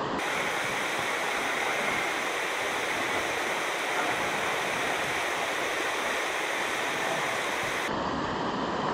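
Water rushing steadily into a filter bag held in a cold mountain creek in the Great Smoky Mountains in winter, a continuous close gurgling wash that cuts off sharply near the end.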